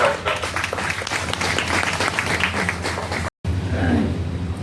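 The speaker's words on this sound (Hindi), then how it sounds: "जोरदार तालियों से स्वागत करिए भाई अफसर झा जी का।" Loud, dense clapping from a crowd at a union meeting of state corporation employees welcomes a speaker, sustained for about three seconds before a brief cut and a quieter room tone.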